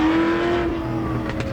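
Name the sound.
race car accelerating on a hill-climb practice run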